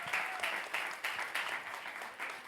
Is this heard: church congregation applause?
yes